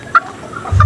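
Breeding hens clucking close by in two brief bursts, one near the start and one at the end, with low background rumble in between.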